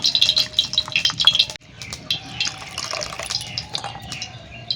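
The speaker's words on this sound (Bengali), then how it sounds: "এবার জলটাকে নিংড়ে নিংড়ে তুলে নেব" A soaked banana flower, chopped and left in turmeric water, is wrung out by hand, giving close splashes and drips of water falling back into a vessel in uneven bursts, with no talk.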